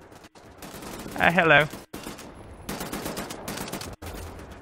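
Bursts of gunfire in Wolfenstein, moderately loud rattling shots with a short spoken greeting between them.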